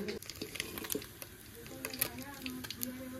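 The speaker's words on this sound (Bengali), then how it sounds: "বাদ বাকি মাছগুলো ভেজে নিচ্ছি" Fish sizzling in oil in a frying pan, a steady soft hiss and crackle with scattered pops and light scraping, fairly faint and close.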